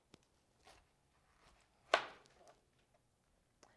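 A knife slices the ends off a fresh pineapple with a few faint, sparse cuts, one sharper chop standing out in the middle, close up and otherwise quiet.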